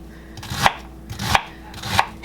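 Knife chopping vegetables on a bamboo cutting board, three sharp, evenly spaced knocks close up with nothing else around them.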